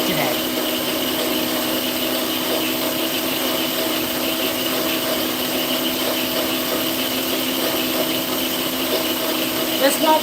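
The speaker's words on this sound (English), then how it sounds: "This won't be as noisy once I'm done the grinding." An electric meat grinder grinds meat in a home kitchen, giving a steady, loud motor whine that runs throughout with little change.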